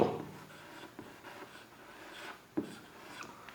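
A pen moves across paper in soft, faint scratching strokes that come in short, irregular bursts, close to the microphone, with no talking.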